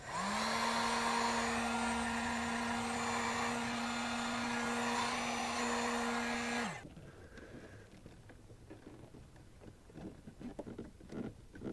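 A hot air gun or hair dryer blows steadily and loudly for about seven seconds to soften a stiff new coolant hose on a 2004 Audi A4 1.8T, then cuts off, leaving quiet handling sounds and faint clicks.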